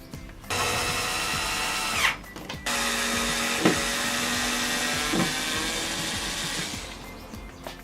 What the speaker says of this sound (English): That's drilled through the backplate there and there.